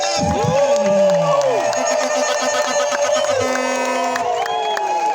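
A lively crowd at a political rally in Remera, Gatsibo, Rwanda, applauds, cheers and whoops, with high ululating trills rising over the noise of many voices.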